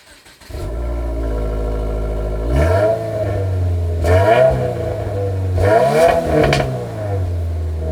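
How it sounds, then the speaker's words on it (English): A 2024 Subaru WRX TR boxer engine idles with a low burble, then revs sharply three times, each rise climbing in pitch and falling back to idle; loud and close, no talk. "Now let's listen to that exhaust."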